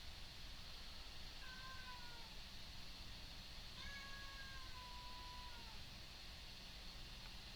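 A cat gives two drawn-out meows a couple of seconds apart, the second longer, faint against a steady background hiss with no talking.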